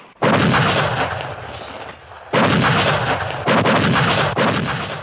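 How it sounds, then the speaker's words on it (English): Heavy North Vietnamese artillery fire on Xuan Loc during the Vietnam War comes as several loud, rumbling booming bursts, each sustained and roaring, close and overwhelming with no voices. "The North Vietnamese open fire on Xuan Loc."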